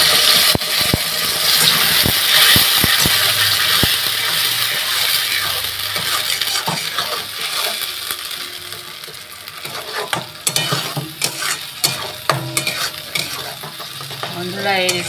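Coriander leaf paste sizzles steadily in hot mustard oil with black cumin, loud and close, with a spoon scraping and stirring the pan and a few sharp clinks of utensils.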